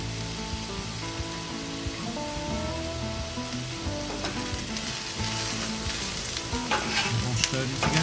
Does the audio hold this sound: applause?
no